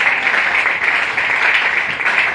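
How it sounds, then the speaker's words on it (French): A church congregation applauds at a service, a dense steady wash of clapping from a large crowd, loud and sustained throughout. "Si tu crois, acclame plus fort pour la gloire du Seigneur Jésus-Christ"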